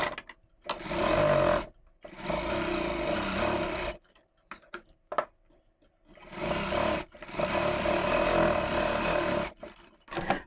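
An electric sewing machine runs in several loud, close bursts while stitching a princess-cut blouse, a steady fast motor whir cut by short pauses of near silence.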